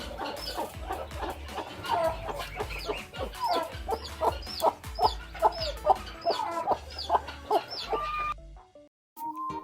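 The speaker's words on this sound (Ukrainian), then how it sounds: "Мама курка. Дитинча курча." Domestic hen clucking in a farmyard setting: a steady run of repeated, close clucks and short calls with no talking, ending briefly quieter.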